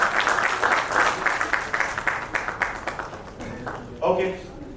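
An audience at a Bhojpuri film industry cricket league premier event claps in a steady, dense patter. A voice speaks over it near the end.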